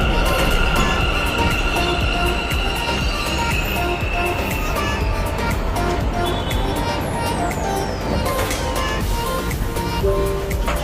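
Bangalore Namma Metro train in motion around seven in the morning, heard from inside: a loud, steady rolling rumble with rail rattle, a rising whine and scattered metallic squeals and clicks.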